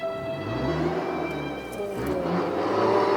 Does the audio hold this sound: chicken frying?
no